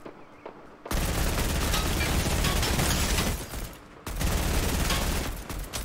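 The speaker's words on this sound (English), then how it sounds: "How good's the shotgun?" Shotgun blasts in Fortnite, a dense burst of loud gunfire filling most of the stretch, broken by a brief lull before another sustained volley, with no talking.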